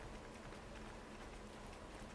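Steady rain falls in the train simulator game Derail Valley, a faint, even hiss of drops pattering on surfaces, constant and soft with no talking.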